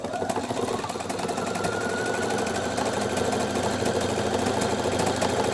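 Pfaff Performance 5.0 sewing machine stitching a built-in stippling pattern, a loud, close, rapid mechanical chatter that runs steadily throughout with no talking.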